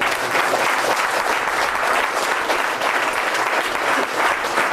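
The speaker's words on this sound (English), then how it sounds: "if we can give them a round of applause" Steady, dense audience applause fills a music-industry A&R panel room, a continuous wash of clapping hands that holds at the same loud level throughout with no break.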